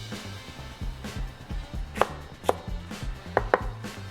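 Knife chopping lemongrass roots and herbs on a board, a series of close, irregular thuds with a few sharper knocks.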